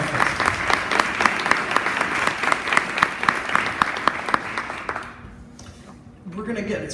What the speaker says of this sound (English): Would you give them a round of applause for supporting our efforts?